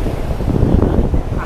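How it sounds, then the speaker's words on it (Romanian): Large ocean waves roll onto a beach in Goa, India, a loud, continuous rumbling surf heard close up with heavy wind buffeting the microphone and no talk. "Deși valurile sunt destul de mari, să știți că apa este foarte caldă"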